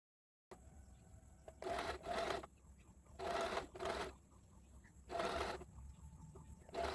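A domestic sewing machine stitches a seam on an Alia cut top in three short bursts with pauses between, nearby and fairly loud over a quiet room.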